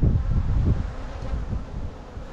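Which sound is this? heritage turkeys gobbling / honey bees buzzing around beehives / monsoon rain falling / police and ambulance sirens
honey bees buzzing around beehives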